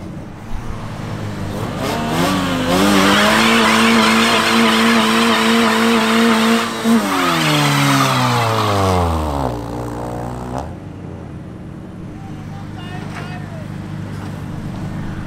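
A car performs a burnout at a car meet, its engine revving hard and its tires squealing loudly and steadily for several seconds before the revs drop and fade, with crowd noise around it.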